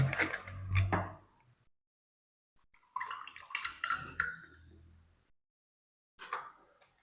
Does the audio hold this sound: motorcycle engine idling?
no